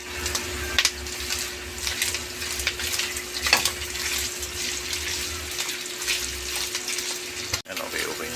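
Steady hiss and crackle of pork sausage (longganisa) frying in a pan, with occasional sharper pops and faint background sounds.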